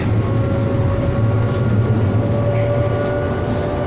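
Calgary CTrain LRT Red Line light-rail car running southbound, a steady close rumble with a faint humming tone held throughout, no voices.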